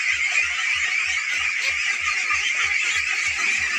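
Hundreds of ducks at an integrated pond farm in Bangladesh call together in a thick, unbroken wall of honks, with a soft regular low thudding underneath.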